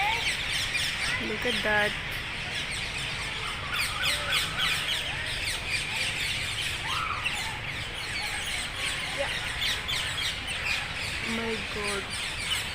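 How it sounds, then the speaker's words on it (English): Parrots call and squawk around Lakhota Lake in Jamnagar, Gujarat, their chirps and screeches scattered through steady outdoor background noise while people talk nearby. "this is parrots. We can't capture them closely, but these are all our parrots"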